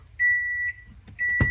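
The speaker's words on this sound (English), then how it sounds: "Microwave's gone off." Microwave oven in a home kitchen on a 48-volt battery system signalling it has finished: two steady, loud electronic beeps, one long and one short, with a brief clatter at the end and low hum underneath.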